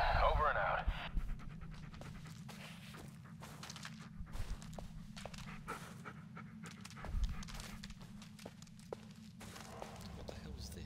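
A dog in the Blair Witch video game pants steadily and rhythmically at close range, with footsteps through a forest, a few whimpers and occasional talking over it.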